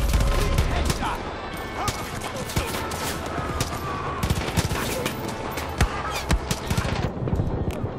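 Rapid bursts of automatic gunfire and sharp single shots from a Far Cry 5 firefight crackle loudly and irregularly throughout, with a voice talking over the shooting.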